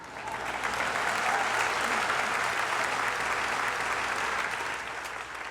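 An audience breaks into sustained applause after a speech, many hands clapping in a thick, even roar that swells, holds for several seconds, then begins to fade near the end.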